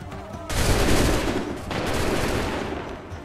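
A musket volley fires in an Assassin's Creed III battle, a loud crackling burst of many shots at once that breaks in suddenly, followed by a second rolling wave of gunfire that trails off as the echo fades.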